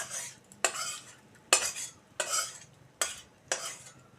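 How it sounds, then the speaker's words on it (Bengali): Cooked chicken is stirred into white chicken pulao in a pot, with five or six distinct scraping strokes of a utensil against the metal, each a bright rasp that fades, evenly spaced and close. "এবার এটাকে আমি একটু ভালো করে নেড়ে দেব।"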